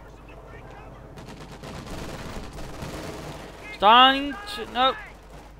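Rapid gunfire and small-arms shooting from a Company of Heroes 2 real-time strategy battle rattles through dense background sound effects, while a voice speaks briefly near the end.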